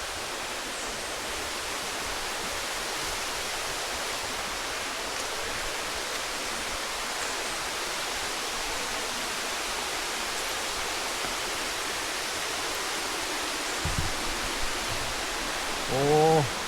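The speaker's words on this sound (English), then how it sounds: "I see a waterfall up in here" Waterfall at La Coca Falls in El Yunque rainforest, Puerto Rico, a steady broadband roar of falling water filling the whole stretch, with brief faint sounds near the end.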